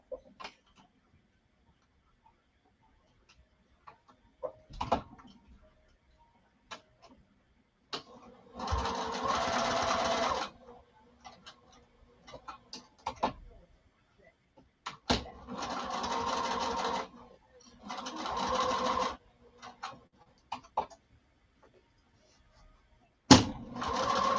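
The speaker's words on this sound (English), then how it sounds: "So we're just going to baste up to that line." Sewing machine basting seams along a marked line on fabric, running in three distinct bursts of steady stitching a few seconds each, separated by quiet handling clicks and rustles.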